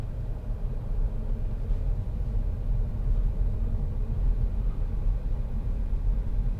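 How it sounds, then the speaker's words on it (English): A steady low diesel engine rumble drones continuously at an even, unstrained pitch as a 2010 SEAT Leon 2.0 TD FR cruises at low revs, pulling in third gear. "The car's basically ticking over in third gear and it's still pulling."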